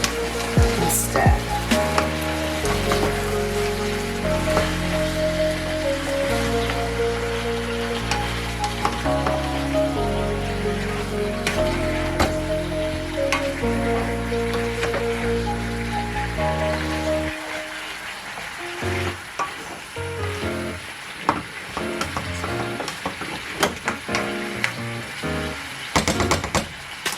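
Curry chicken frying and being stirred in a pot on a home stove, a steady close sizzle with scraping stirs, over continuous background music that thins out in the last third.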